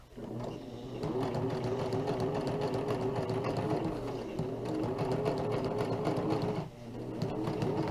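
A sewing machine stitches a flat felled seam in ultralight tarp fabric, running in a fast, steady mechanical whir with one brief slowdown near the end, close and clear.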